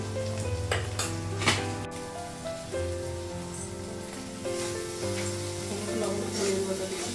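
Chilli powder, coriander powder and salt frying in a pan, a steady low sizzle with occasional stirring scrapes, faint and continuous.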